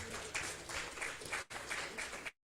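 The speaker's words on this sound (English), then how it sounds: "So a round of applause again for Mr." A small audience claps for Mr. Vincent at a virtual business expo event, a faint, steady patter of applause that continues with a brief break before stopping abruptly.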